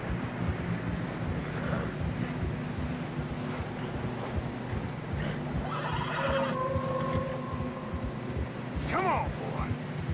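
Horses whinny in Red Dead Redemption 2 while riding through fresh snow on a narrow mountain path, a loud neigh rising near the end over steady wind and hoofed movement, with voices talking in the background.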